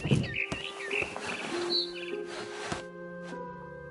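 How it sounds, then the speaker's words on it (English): Bird chirps of a barn swallow in the video game What Remains of Edith Finch: a few bright, brief tweets over quiet ambient background, fairly close, with no one talking. "Then I heard chirping outside my window. It was a barn swallow going back to her nest."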